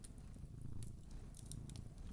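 A voice actor imitates a purr with a soft, continuous low rumble, close and quiet, with faint breathy crackles throughout and no speech.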